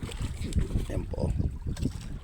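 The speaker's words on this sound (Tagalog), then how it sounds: "dalawa yung makina nito. Yan nga double engine" A boat with twin engines runs with a low, steady rumble, and wind buffets the microphone over the engine noise.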